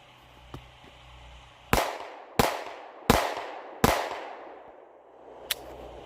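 A Taurus G3c compact pistol fires steel-case ammunition in four loud, sharp shots spaced about a second apart, each with a ringing outdoor decay, plus a fainter pop near the end.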